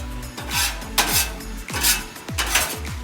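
A metal scraper rasps across a Blackstone griddle top in repeated strokes, each stroke a sharp scrape that ends in a ringing metallic clank, close and loud with short pauses between, no talk.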